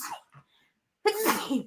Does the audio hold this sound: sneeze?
yes